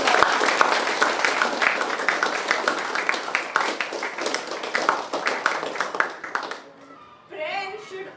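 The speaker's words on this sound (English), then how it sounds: "Can I please have a round of applause?" An audience at a National Doctors' Day program claps to welcome a guest doctor, dense and loud for about seven seconds before fading out as a voice starts speaking.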